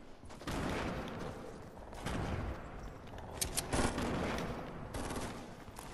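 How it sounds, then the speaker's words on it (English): Rapid gunfire in the video game Fortnite, dense overlapping bursts of automatic shots sustained throughout at moderate volume, with a few sharper single cracks. "Who's shooting at him?"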